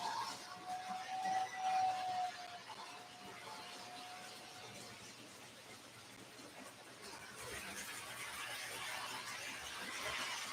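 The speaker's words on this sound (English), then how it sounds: "I got the original whistle tender with it." A model train's original whistle tender blows a thin, steady whistle tone for a few seconds, faint and somewhat distant over a soft background hiss and rumble, with no talking.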